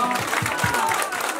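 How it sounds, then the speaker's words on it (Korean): Applause from an audience at a political visit to a senior center in Yeongdeungpo, Seoul, a steady patter of clapping that runs under speech from a host on a microphone. "봉사하는 우리 오연숙 의원한테도 박수 부탁해요."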